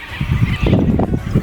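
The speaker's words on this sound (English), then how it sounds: "Sulphur-crested cockies are one of the most common birds that you see around this area" Sulphur-crested cockatoos give a rapid series of loud, harsh, raspy screeches close by, several calls overlapping in quick succession.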